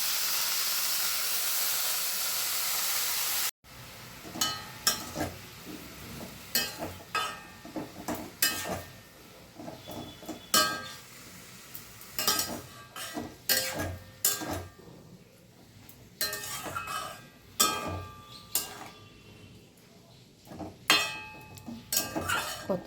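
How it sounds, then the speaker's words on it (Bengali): Spinach frying in a home kitchen pan, its wet leaves giving off a steady steamy hiss and sizzle, broken by frequent clinks and scrapes of a utensil stirring against the pan. "এখন চলছে পালং শাক ভাজা"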